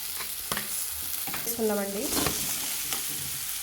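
Drumsticks frying and being stirred in a pan with onions and tomato, a steady sizzle broken by scraping spoon strokes, close and alone with no talk.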